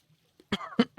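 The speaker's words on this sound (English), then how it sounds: "So sorry if I like keep coughing again" A person coughs two or three times in quick succession during a video game session, close and fairly loud, after a moment of near silence.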